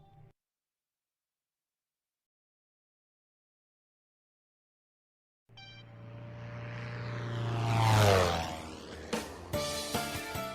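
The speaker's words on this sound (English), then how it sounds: "Bird Boy is flying his plane." A propeller airplane flies over a beach, its engine drone rising from silence into a swelling pass that peaks and then fades, with a few sharp accents near the end.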